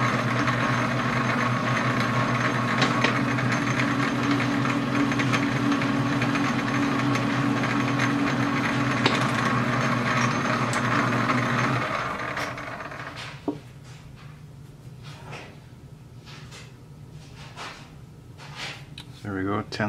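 A metal lathe takes a light scratch pass while cutting 10-per-inch square threads on an M1917 Enfield rifle barrel. It gives a steady, loud machine whir for about twelve seconds, then winds down, followed by a few scattered clicks and taps in quieter surroundings.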